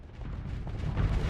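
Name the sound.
thermal cannon firing in video game Starsector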